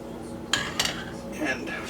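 Ladle clinking against a gray bowl while cauliflower soup is served, a few light ceramic and metal knocks close by over a quiet background.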